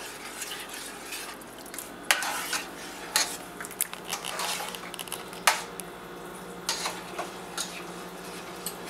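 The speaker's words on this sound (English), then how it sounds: "Give it another little stir." A spoon stirs potato soup with fresh chives in a pot, making soft repeated scrapes and occasional sharper clinks against the pot, moderately quiet and close.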